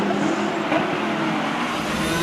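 Race cars at the Magny-Cours circuit during a ROSCAR final, their engines a steady, loud drone that holds throughout with no break, like several cars running close together.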